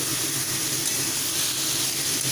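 Eggplant pieces fry in hot oil in a pan, giving a steady, close, unbroken sizzle with no voices.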